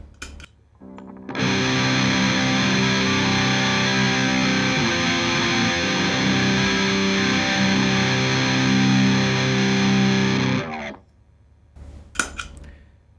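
Electric guitar driven through a Fullbore Metal distortion pedal set at zero gain, sustaining a loud, thick chord for about ten seconds before cutting off, followed by a brief pick scrape and string noise.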